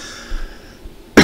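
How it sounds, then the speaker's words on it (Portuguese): A single sharp cough bursts out at the very end, loud and close, after a stretch of quiet room tone. "Desculpa aqui essa tosse no final"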